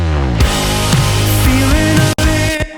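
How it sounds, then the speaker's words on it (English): Mega bass slide in a mixed song going into the first chorus, a loud deep bass sweeping through pitch glides within dense music, ending in a brief cut and drop before the chorus. "Going into this first chorus, we have this mega bass slide."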